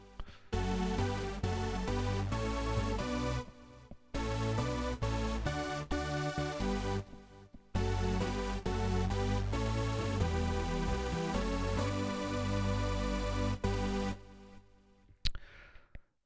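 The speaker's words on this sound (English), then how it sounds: "first of all, we've got King Korg's own filter," A Korg King Korg synthesizer plays sustained chords and melodic lines through its own filter model, loud and continuous for about fourteen seconds with brief gaps before trailing off.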